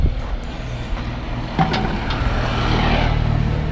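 The engine of a TVS King auto-rickshaw with a suddenly changed sound, suspected of water in the gasoline, drones close and loud with a throbbing low rumble, a sharp knock midway and a slight rise toward the end.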